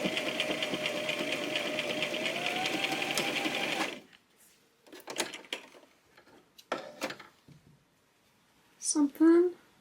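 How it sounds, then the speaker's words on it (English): A sewing machine stitches the seam of a small Calico Critters (Sylvanian Families) doll dress: a loud, close, steady mechanical whir runs for about four seconds, then stops and gives way to a voice talking. "we're just going to stitch along here"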